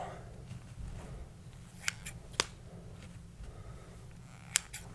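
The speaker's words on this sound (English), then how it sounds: "I'm gonna move on to just removing a lot of the material with the scissors" Scissors snip through hair during a close-up haircut, a few crisp isolated clicks over a soft, steady room hiss, quiet and intimate with no talking.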